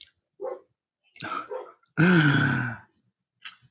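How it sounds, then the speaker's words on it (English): A dog gives a few short grunting barks and one longer drawn-out bark-groan, spaced irregularly with silence between them. "Did y'all hear Chino barking in the back?"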